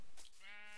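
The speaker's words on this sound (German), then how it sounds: "Schaf nehmen wir mit." A Minecraft sheep gives one short, wavering bleat, fairly close and clear against quiet background noise.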